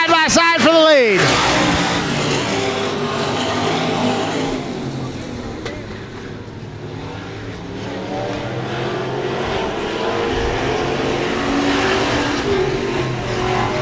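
Race cars roar side by side for the lead at Cotton Bowl Speedway, engines loud and sustained with a sharp revving sweep at the start, while a commentator talks over the racket.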